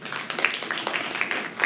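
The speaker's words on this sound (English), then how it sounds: "Let's give another round of applause." An audience at a regional education stakeholders' conference breaks into a round of applause, a steady wash of many hands clapping at moderate loudness throughout with no voices on top.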